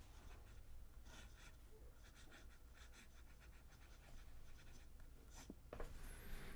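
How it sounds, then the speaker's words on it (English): A Konpeki fountain pen scratches across paper in rhythmic strokes, faint and close, with a soft rustle and a sharper scrape near the end. "Fantastic pen. I'm having a blast writing with this."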